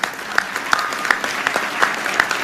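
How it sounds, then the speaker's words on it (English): A seated audience at a comedy event applauds award judges, dense clapping sustained for a couple of seconds at moderate distance. "Certainly deserving of your applause."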